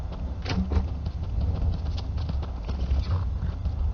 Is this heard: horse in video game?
yes